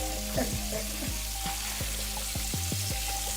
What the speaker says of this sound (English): So I'm getting ready to turn over the pork chop inside.